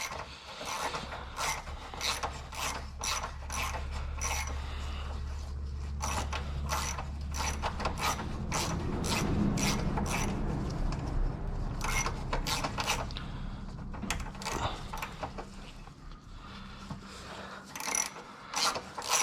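A socket is hand-turned on threaded fasteners of a 9th-generation Honda Civic Si during rust repair: rapid, irregular metallic ratcheting clicks over a low mechanical hum, close and moderately loud, with no talk.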